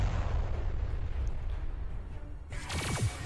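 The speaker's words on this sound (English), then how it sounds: "Flak attack should kill this" Flak attack explosions in the space strategy game Halcyon 6, a rumbling boom-laden burst of blasts, then a sharp, bright explosive crackle with whooshing decay near the end, moderately loud.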